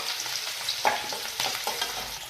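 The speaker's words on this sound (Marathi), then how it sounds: "आता यामध्ये कांदा टाकायचा नंतर त्याला हलवायचे" Onion fries in a pan for poha while being stirred, a close steady sizzle broken by several scraping strokes and light clinks of the spoon, with no voices.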